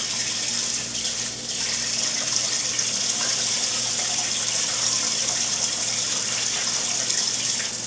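Tap water runs in a steady, loud gush into a sink as meat pieces are rinsed, with no pauses.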